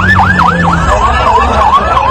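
Fire brigade vehicle siren wailing at a plane crash site, a loud near whooping rise-and-fall repeating rapidly over steady engine rumble.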